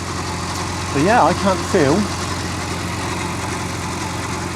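A high-mileage Porsche Boxster engine idles steadily while warming up, a constant close low hum with exhaust smoke from burning paste, as someone talks briefly over it.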